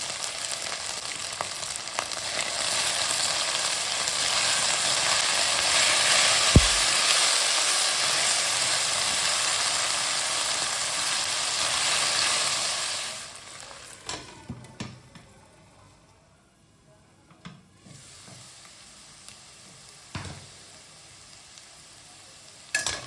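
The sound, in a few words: stuffed potatoes frying in oil with salt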